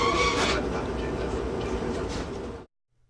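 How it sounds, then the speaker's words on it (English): A northbound Coast Starlight passenger train pulls out of a station, a steady rumbling roar that holds loud and close for over two seconds before cutting off abruptly. "Now the northbound train has left the station and is moving north towards Seattle."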